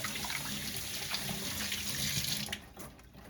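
Tap water running steadily into a sink while hands are washed with soap, a close, even splashing that drops away near the end as the flow is shut off.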